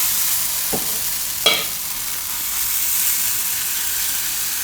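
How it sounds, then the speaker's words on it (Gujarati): Moong dal batter spread with a ladle sizzles on a hot pan in a steady, even hiss, broken by two quick utensil taps early on. "આ રીતે ચમચો લઈ અને ખીરું પાથરી દેવું"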